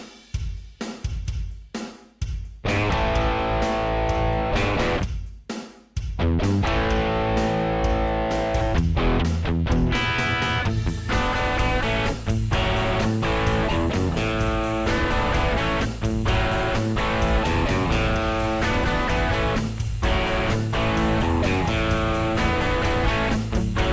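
An electric guitar played through an AC30-style amp simulation rings out in crunchy strummed chords with slight distortion, starting with a few choppy hits and then settling into a continuous full riff.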